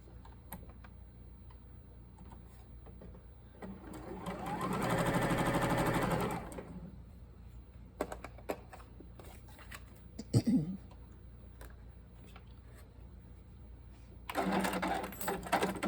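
A sewing machine stitches quilt pieces in short bursts, one sustained run of a couple of seconds and another near the end, with light clicks and handling noises between them.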